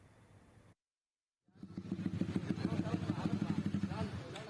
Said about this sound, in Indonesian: Satuan Lalu Lintas Polres Pati menghentikan satu persatu motor berknalpot brong di Jalan Diponegoro.